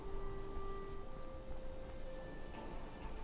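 Rain patters softly and steadily in the Fallout 4 game world, a faint, even hiss with a thin electronic hum running beneath it.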